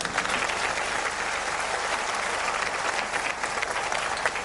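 An audience claps to welcome an army colonel onto the stage at a Pakistan Air Force special show, a sustained, even roar of applause at moderate distance with no voices over it.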